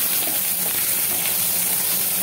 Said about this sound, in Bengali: এবারে ঘিটার মধ্যে আমি দিয়ে দিচ্ছি নারকেলগুলোকে, আর এখানে তেজপাতা দিয়ে দেব। এগুলোকে একটু ভেজে নেব।